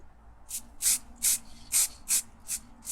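A spray can fires six or seven short, bright hissing bursts in an even rhythm onto small model car doors from a Corgi police minivan set, each bursting loud and close with brief quiet gaps between.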